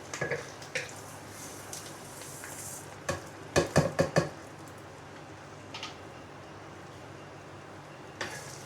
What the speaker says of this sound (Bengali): এখন আমি এখানে হাফ কেজি চাল, পোলাও চাউল, আমি এটা ভেজে নেব।